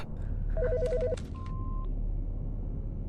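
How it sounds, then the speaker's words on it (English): A telephone rings in the video game Autopsy Simulator: a warbling electronic trill for about half a second, followed by a short steady tone, heard over a low constant hum. "The fucking phone."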